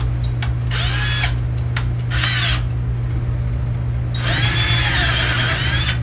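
A power driver sinks screws into a wooden bed platform in three loud, close, high-pitched whirring bursts, the last one longer, with a couple of short clicks in between over a low background hum.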